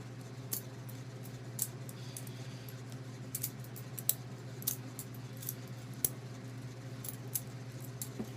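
Balisong butterfly knife being twirled, giving a steady run of light metallic clicks and clacks at an irregular rhythm, close but fairly soft over a constant low hum, with no talking.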